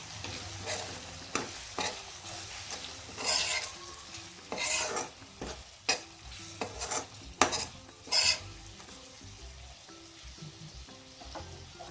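A spatula scrapes and stirs spiced masala with red chilli powder and goda masala in a pan. The sizzling stays low between several sharp, loud scraping strokes at irregular intervals, and no one speaks.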